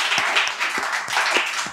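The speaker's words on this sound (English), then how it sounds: "So let's clap for these three boys today." A small audience at a creative English speaking session claps for three boys, giving a brief, moderately loud patter of hands with no talking.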